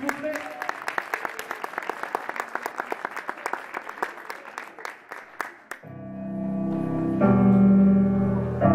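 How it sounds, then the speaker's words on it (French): An audience at an audition applauds with dense, steady clapping for about six seconds, then it fades out as instrumental music begins. "Je vous demande de l'applaudir bien fort, s'il vous plaît."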